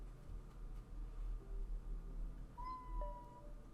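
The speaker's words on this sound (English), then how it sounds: "Oh, little baby meows." Cat meowing indoors, a couple of faint, short high-pitched meows late in the stretch over a quiet low background hum.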